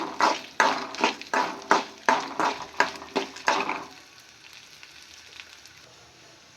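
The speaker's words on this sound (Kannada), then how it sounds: "ಇವಾಗ ಸ್ವಲ್ಪ ಬ್ಯಾಡಿಗೆ ಮತ್ತು ಗುಂಟೂರ್ಕಾಯಿ ತೊಗೊಂಡಿದ್ದೀನಿ, ಅದನ್ನು ಇದ್ರ ಜೊತೆಗೆ ಹುರ್ಕೋಬೇಕು" Byadgi and Guntur chillies are roasted in a pan with other ingredients for curry leaf chitranna. About ten sharp, rhythmic sizzling bursts come up close, likely from stirring, then they fade to a faint, quiet crackle.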